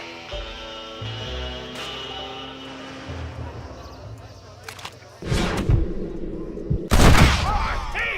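Gunfire in the western video game Red Dead Redemption: a couple of loud, sharp bursts of shots over background game music.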